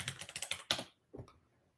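Typing on a computer keyboard, a quick close run of about eight light key clicks followed by a slightly louder press and one more click after a short pause, no talking.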